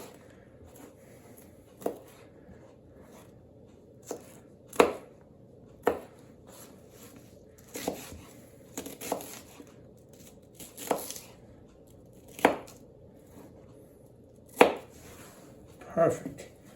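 An onion chopped on a board with a Dispatch Knives DP8076-SB flipper folder in D2 steel, giving irregular sharp knocks spaced a second or two apart, close and fairly quiet.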